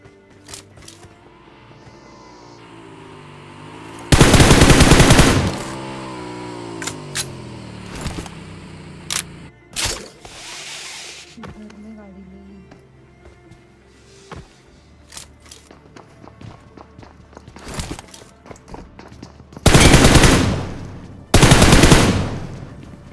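SCAR rifle gunfire in a video game, several loud sustained bursts of automatic fire separated by quieter stretches of footsteps, mechanical clicks and scattered single shots.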